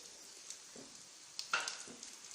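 Raisins and vermicelli fry in ghee for a vermicelli payasam, giving a faint, steady sizzle with a few soft stirring scrapes and small crackles.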